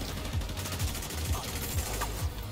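A mounted gun in the video game Division 2 fires in a steady rapid stream of shots at moderate loudness, with a few heavier thuds recurring at regular intervals beneath the continuous gunfire.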